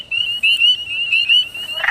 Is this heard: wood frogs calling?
yes